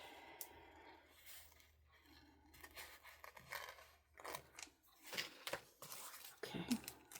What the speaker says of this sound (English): I'll have to use my scissors